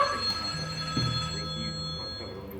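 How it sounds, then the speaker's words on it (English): A telephone bell rings indoors, a faint short trill with sustained tones fading away. "I thought you was ringing me between 1 and 3"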